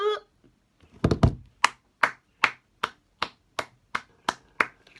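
Hands clap about ten times in a steady rhythm during a Rocket League video game session, sharp close claps after a brief flurry, with no talking.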